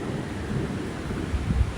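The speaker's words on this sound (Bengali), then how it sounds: "শুনুন কিভাবে বজ্রপাত হচ্ছে কিছুক্ষণ পর পর জোরে জোরে বজ্রপাত হচ্ছে" A low, rolling rumble of thunder during a rainstorm, heavy and continuous across the short stretch, with a deeper surge toward the end and a wash of rain noise over it.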